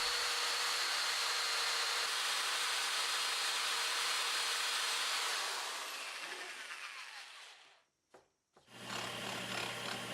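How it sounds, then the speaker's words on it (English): A small disc sander smoothing jigsaw-cut curves on reclaimed wood for a bathroom wall cabinet, giving a steady, loud whirring grind that fades, cuts out briefly and then starts up again. "I used my little disc sander to clean up the curves I cut with the jigsaw"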